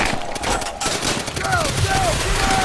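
An enemy machine gun in Call of Duty: World at War hammers out sustained rapid bursts amid a busy World War II battle, loud and close, with shouting soldiers over the fire.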